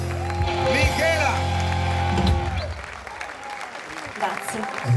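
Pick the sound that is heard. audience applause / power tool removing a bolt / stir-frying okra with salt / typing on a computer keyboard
audience applause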